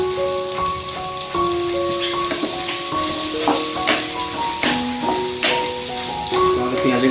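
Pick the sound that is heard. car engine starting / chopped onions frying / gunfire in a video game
chopped onions frying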